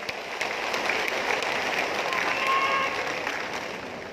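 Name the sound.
crowd applause at political rally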